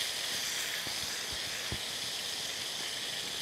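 Prawns fry in a pan while being stirred, a steady bright hiss broken by a few soft scraping knocks from the utensil.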